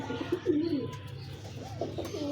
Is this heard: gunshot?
no